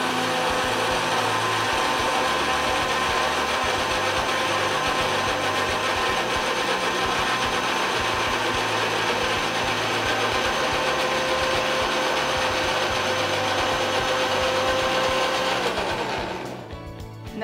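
A kitchen mixer blends mango with cardamom-free mango lassi ingredients, running as a steady, loud motor whir with a fixed pitch for about sixteen seconds before it switches off and spins down.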